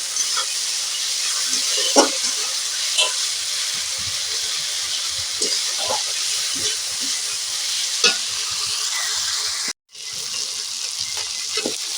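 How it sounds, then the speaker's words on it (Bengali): Spices frying in a pan over a low flame, a steady hissing sizzle with occasional soft stirring taps and a brief gap near the end, with no voices. "কম আঁচে ভাজলে ভালো ভাজাটা হবে"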